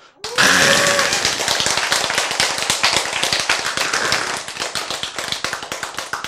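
A church congregation clapping in a lively, rapid rhythm, many hands close by and sustained throughout, with a brief voice at the start.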